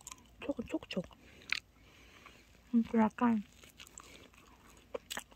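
A crispy croffle with a cream filling is chewed close to the mic, with quick crisp crunches at the start and a final bite near the end, and a person talks in between.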